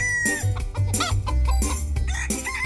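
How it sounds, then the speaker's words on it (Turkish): Loud, close video game chicken clucks and squawks come in quick, choppy bursts one after another. "Tavuklarımız bahçenin her tarafına dağılmış durumda."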